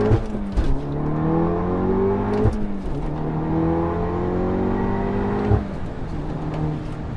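A Volkswagen Golf R with an APR Stage 2 tune, 392 horsepower, accelerating hard from inside the cabin, engine tone climbing through the revs with sharp breaks at gear shifts, loud and continuous without talk.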